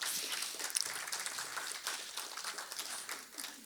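Audience applause fills a room at an annual community television celebration in Kenosha, Wisconsin, a faint, steady wash of many hands clapping that holds evenly without breaks.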